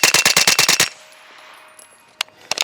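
A Springfield Kuna with a holographic sight is bump fired in a fast string of about eight loud, close shots, then a brief ringing lull and two more scattered shots.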